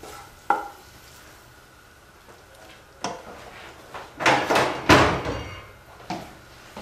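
Fried onion being stirred into beaten eggs in a pan, with scattered scraping and clinking knocks, a cluster of louder stirring scrapes near the end, and a quiet background between them.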